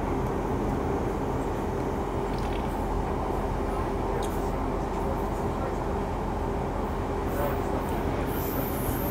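Continuous rumble and rattle inside a Northern Rail train running between Barnsley and Huddersfield, with steady wheel and track noise, occasional faint squeals, and soft background voices of passengers underneath.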